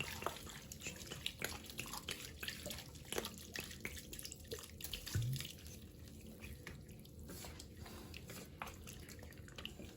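Red wine, about a litre, pours into a pot of beef bourguignon, giving a steady liquid splash and trickle that runs throughout at moderate level with no talk.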